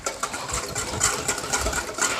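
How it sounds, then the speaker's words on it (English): A whisk beats eggs for an egg wash in a kitchen, producing a quick, steady rhythmic clatter of wire against the bowl, close and fairly loud with no talking. "we're just whisking our eggs until they're thoroughly mixed"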